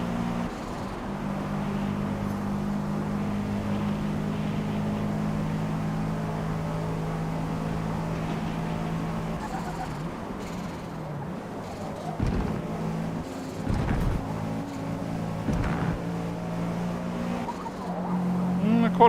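Racing car engine in Forza Motorsport, a steady droning note held through corners, then shifting pitch as tyres skid and the car accelerates, with the engine running continuously under a speaking voice.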